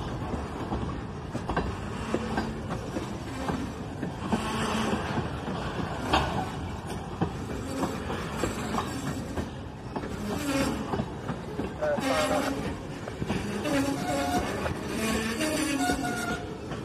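A freight train hauling empty corn syrup tank cars rolls past nearby with continuous rumbling and clattering of wheels over rail joints, its metallic squeals and rattles rising and falling at a steady moderate level.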